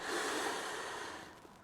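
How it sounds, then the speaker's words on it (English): One long, deep inhalation of breath, close and soft, filling the moment alone before easing off. "let's everybody take a deep breath"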